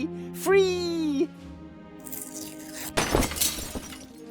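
A bird smashes into a stained glass window in the Deponia Doomsday video game, a sudden shattering crash of glass. Before it comes a long warbling cry, and scattered debris follows.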